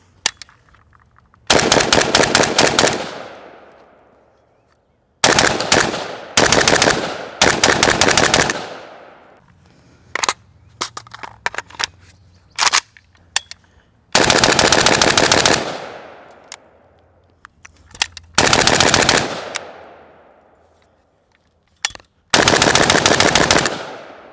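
A PSA 300 Blackout rifle fires reloaded brass-cased ammunition outdoors in long rapid bursts, each a loud dense string of shots with ringing decay, separated by short pauses and a few scattered single shots.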